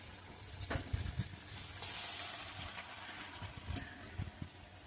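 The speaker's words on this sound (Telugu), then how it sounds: "ఇప్పుడు ముప్పులో వేసి ఉసిరికాయలు వేపుకుందాం." Small amla gooseberries fry in hot oil with a steady low crackle and sizzle, broken by a few louder pops and stirring clicks, close by and fairly quiet throughout.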